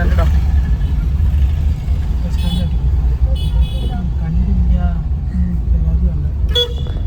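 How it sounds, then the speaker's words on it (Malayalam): A bus idles at a bus stand amid busy street traffic, with a steady low engine rumble and several short horn toots from nearby vehicles, and people talking over it. "ഇതാണ് ബസ്"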